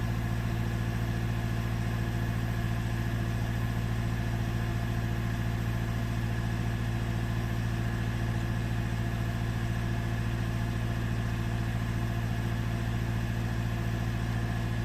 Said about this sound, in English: I could definitely hear the big turbo spooling up.